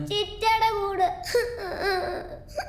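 A young child cries and whimpers close by in short, wavering wails broken by sobbing breaths.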